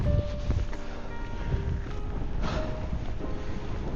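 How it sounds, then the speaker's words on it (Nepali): Strong wind blows at a camp near Pikey Peak in the Nepal mountains, a continuous low buffeting rumble with gusty swells and faint rustling, close to the microphone and with no talk. "हावा पनि डेन्जर चलेछ"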